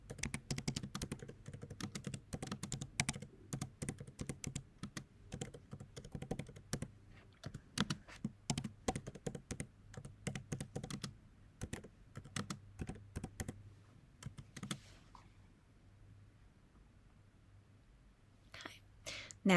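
Rapid, irregular clicking of someone typing on a computer keyboard, close and fairly quiet, going on for about fifteen seconds before falling silent.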